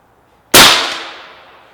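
A single sharp, loud shot from a Benjamin Bulldog .357 bullpup air rifle at about 1,500 PSI, a sudden crack after near silence followed by a short decaying ring.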